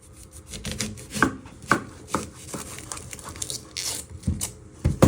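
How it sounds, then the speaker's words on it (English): Knife chopping the end off an onion on a cutting board while prepping an Aussie meat pie, heard as a series of sharp, close thuds at an irregular pace, with no talk. "You're first going to chop your end off."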